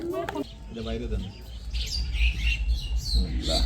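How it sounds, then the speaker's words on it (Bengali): Birds call outdoors during a village duck-cooking session, with chirps and squawks scattered through the middle and end of the clip, while voices talk before and between them. "কি সুন্দর পাখি ডাকে"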